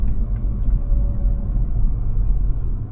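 A 2017 Mercedes E200 Coupe with 19-inch rims and thin-sidewall tyres rolls over a bumpy, pitted road, heard from inside as a loud, continuous low rumble of road and tyre noise with no talking.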